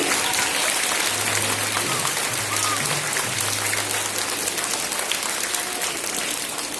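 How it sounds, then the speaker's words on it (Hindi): Event audience clapping to welcome a guest at a Dussehra function, a continuous, fairly dense round of applause with a faint low hum running beneath it. "कृपया तालियां बजाकर इनका हार्दिक स्वागत करें"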